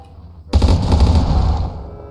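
Rapid gunfire bursts out suddenly inside the Streamer Life Simulator game, a loud, booming, continuous volley of shots that rattles on for over a second and then tails off, with no voices.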